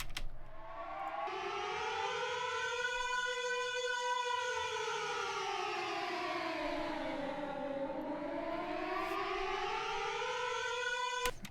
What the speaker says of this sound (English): So a typical air raid siren, which we did a version of that I don't think landed in the game